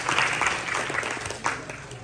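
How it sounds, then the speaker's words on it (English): A room of party guests at an IITM holiday gathering applauds the people who organized the event, a continuous wash of clapping at moderate distance with a brief swell near the end and a faint voice underneath. "Can we have a round of applause for everyone who helped put this event together again?"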